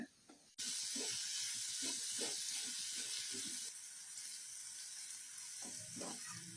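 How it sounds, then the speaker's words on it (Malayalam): Onions sauté in a hot pan for chicken curry, a steady, close sizzle that starts abruptly and continues with occasional stirring scrapes beneath it. "സവാള നന്നായിട്ട് മൂത്ത് കുഴഞ്ഞ് നല്ലൊരു ബ്രൗൺ കളറായി കിട്ടുന്നത് വരെ വേണം വഴറ്റിയെടുക്കാൻ"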